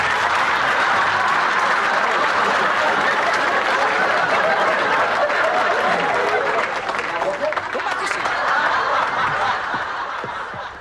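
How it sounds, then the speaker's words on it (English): A theater audience at a magic show gives a loud, sustained round of applause mixed with laughter and chatter, tapering slightly near the end. "nice round of applause"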